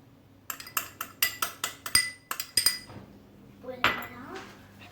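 A metal spoon clinks rhythmically against a bowl while stirring 8 grams of yeast into warm milk for brioche dough: about a dozen bright, evenly spaced taps, then a softer scrape, close by with no talking.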